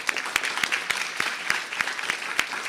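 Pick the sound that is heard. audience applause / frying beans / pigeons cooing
audience applause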